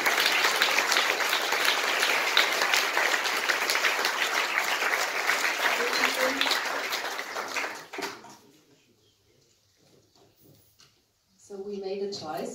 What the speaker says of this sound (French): je vous demande s'il vous plaît d'applaudir et d'accueillir donc Jessica Hausner